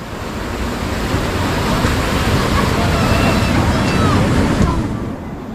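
Bhivpuri waterfall roars as a steady, dense wash of falling water, loud and continuous with some wind buffeting throughout.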